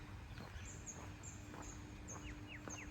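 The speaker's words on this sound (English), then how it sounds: "That's an Asian koel, or koel." Asian koel calling in the distance on a quiet morning in a Malaysian neighborhood, a few faint whistled notes repeating over steady outdoor background hum.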